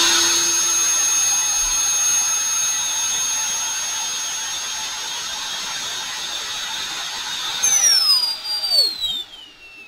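A repaired Ridgid Gen5 brushless drill motor runs steadily with a high whine, then spins down near the end with falling tones, close and loud with no talk.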